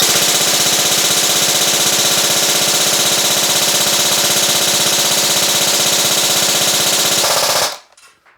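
A Specna Arms RRA airsoft rifle fires full auto with a mid-cap magazine, a loud, continuous rapid rattle that runs for several seconds and cuts off abruptly as the magazine empties.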